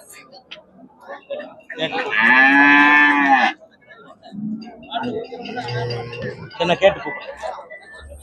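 A cow gives a loud, drawn-out moo at a busy cattle market for dairy cows, followed by a second lower lowing call, with people talking nearby throughout.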